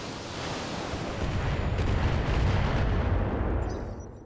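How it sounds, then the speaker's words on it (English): A BattleTech mech unloads all its weapons at once in a heavy, rumbling barrage that swells and sustains for several seconds before fading, loud and close with no talk over it. "Firing all weapons."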